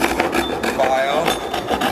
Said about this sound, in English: You file till you get them all down.